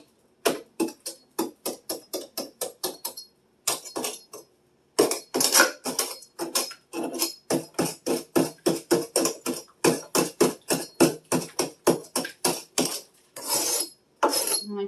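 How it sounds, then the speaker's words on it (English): Steady, close taps and scrapes of a tool chiseling frozen ice frost out of a freezer, dozens of sharp regular strikes with a few short pauses, no voices. "Kind of chisel away and be very careful."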